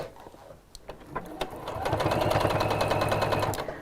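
A sewing machine runs a straight stitch, starting with a few slow, separate clicks and then settling into a close, steady rapid whirring chatter for about two seconds before slowing.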